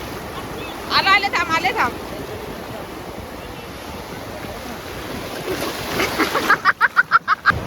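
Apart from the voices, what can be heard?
sea waves on Talashil beach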